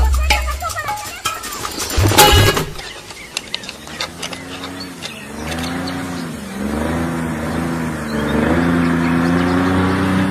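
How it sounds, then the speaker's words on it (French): A vehicle engine in an action film rises in a steady, drawn-out drone that grows louder as it approaches, following a sharp burst of noise at the start. "un bruit de moteur à midi, descends."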